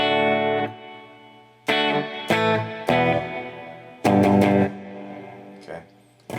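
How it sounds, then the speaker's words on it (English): Clean electric guitar notes and strummed chords ring out through an amp via a POD XT Live, each hit trailing off with a slight reverb tail the amp adds, with gaps between phrases. "the amp has a little bit of reverb that you can't get rid of"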